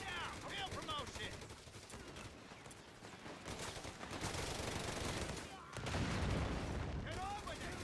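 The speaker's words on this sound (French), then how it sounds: "they're taking pot shots at us!" Gunfire rattles in the Company of Heroes 3 battle for Bari, with continuous machine-gun bursts and rifle shots over a dense wash of combat noise and shouted soldier voices.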